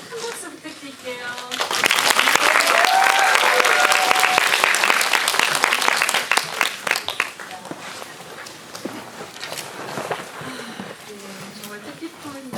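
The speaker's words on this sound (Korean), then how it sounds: "두 분 인사 나누실 때 큰 박수 부탁드릴게요" A theater audience at a Busan International Film Festival anniversary screening Q&A breaks into strong applause as two guests greet the crowd. The clapping swells loud for several seconds, then thins into scattered claps, with a voice speaking near the start and end.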